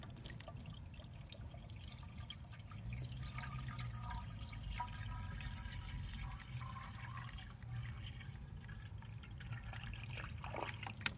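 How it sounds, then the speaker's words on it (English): Water is poured into the cooling system of an old car that had been parked for decades, a faint, steady trickle and dribble running on for several seconds against a low background hum. "I'm going to try pouring water in there and see if it just dumps right back out somewhere else"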